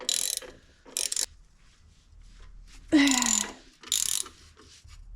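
Ratchet wrench on an extension loosening a bolt during an EGR and intake cleaning on a Jetta TDI, giving a few separate bursts of clicking that come in short spurts with quiet gaps between them, close up.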